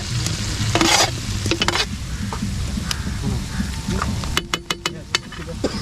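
Koftas being stirred into a sizzling masala on a hot tawa, with scraping spatula strokes and clatter over a steady frying hiss; a few sharp metallic taps near the end.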